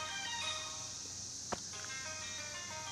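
A phone ringing with a steady electronic melodic tone that repeats throughout, moderately loud, with a brief sharp knock midway.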